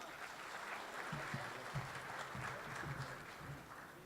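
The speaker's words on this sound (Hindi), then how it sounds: "आप ज़ोरदार तालियों से अशफाक साहब का इस्तकबाल कीजिए" Faint, steady clapping from a crowd at an Urdu poetry mushaira in Qatar carries on for several seconds, distant and even, with a low voice murmuring beneath.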